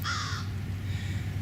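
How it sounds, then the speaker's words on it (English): A crow with a hoarse voice gives one rough caw in a Wisconsin garden in early spring, somewhat distant over a steady low background hum. "You hear that crow in the background? He's got a hoarse voice."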